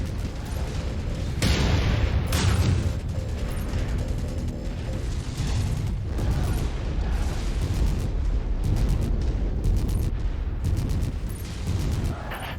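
A destroyed target in a mech combat game on Sarna blows apart in a long rumbling explosion, with heavy booms and crackling bursts rolling on over steady machinery noise for the whole stretch.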